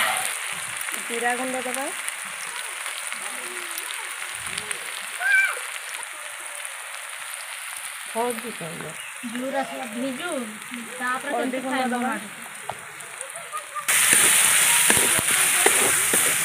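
Cumin seeds and spices sizzling steadily in hot oil in a pan while someone talks over the cooking, the frying hiss growing louder and brighter toward the end.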